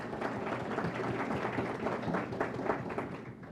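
A room of attendees at a Texas executive briefing breaks into a round of applause, many hands clapping in a dense, steady roar that holds for several seconds at close, even loudness.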